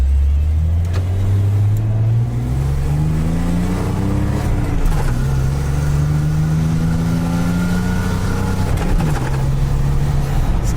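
A hot rod's exhaust rumbles loudly up close, revving up and dropping back in several swells over a deep, steady idle, with no voices.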